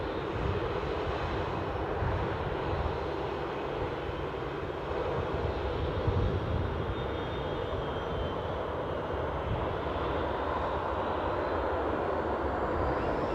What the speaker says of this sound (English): Lovely blast from that Boeing 737.